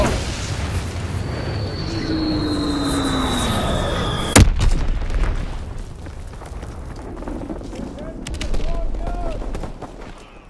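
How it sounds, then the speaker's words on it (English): A grenade explodes in a loud, sharp blast during a Call of Duty WWII team deathmatch on the Gibraltar map. A rumbling tail and more distant battle noise follow it, with game voice chatter underneath. "Grenade!"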